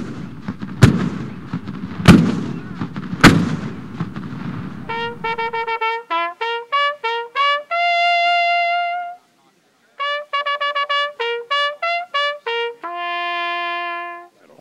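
Civil War field cannons, including 12-pounders, fire at a battlefield reenactment at Shiloh. Three loud, booming shots come at roughly one-second intervals and echo outdoors, then give way to a sequence of clean electronic beeping tones.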